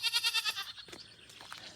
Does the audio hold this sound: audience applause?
no